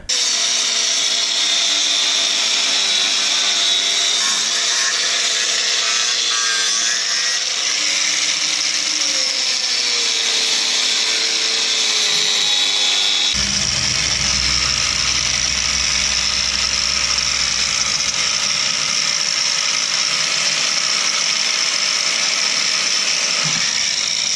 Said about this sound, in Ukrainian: Зараз візьму болгарку, обріжу його